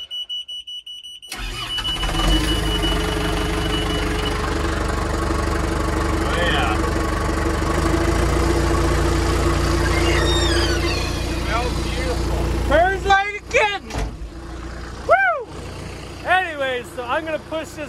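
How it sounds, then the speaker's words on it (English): A Caterpillar-style 550H bulldozer's engine cranks and catches after a cold start, then settles into a steady, loud diesel idle, with a person talking over it toward the end. "We'll do a little cold start for you."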